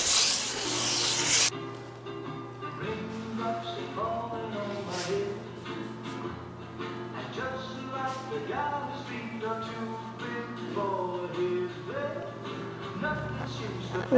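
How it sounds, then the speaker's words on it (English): A white abrasive pad rubs over a finished wooden altar or pulpit piece in steady back-and-forth strokes, with a brief louder burst at the start, set against a continuous low hum. "maybe use a little, that white abrasive pad to get it just like I like it."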